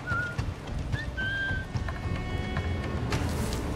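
In the video game Assassin's Creed IV Black Flag, a character gives a few short whistles, clear but brief, over a busy game soundscape of rain-like ambience and low rumble.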